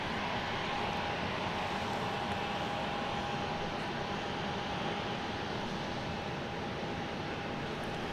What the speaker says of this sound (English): Have another plane that came in over on the west side, now looking for a place to park.